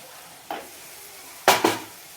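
Chopped tomato dropped into a pan of frying spring onion greens, a soft thud followed by two sharp sizzling bursts close by, with a quiet hiss between them and no voices.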